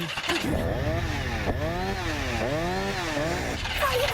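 A stalled car engine in a horror-film scene being cranked repeatedly without catching, the starter whining up and down in loud, close, surging cycles of about a second each, with no clear talking.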